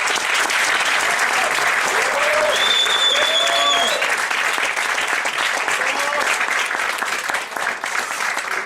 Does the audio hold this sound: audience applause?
yes